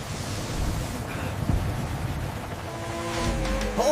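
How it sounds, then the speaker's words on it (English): Strong gusting wind blowing in a cartoon scene, a steady rushing roar with low rumbling surges that swell louder toward the end, with faint tonal cues coming in over it. "The wind is too strong."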